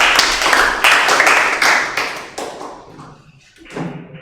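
Classroom clapping as a group of students applauds, fairly close and loud, with sharp individual claps merging into a burst that tapers off and then picks up briefly again.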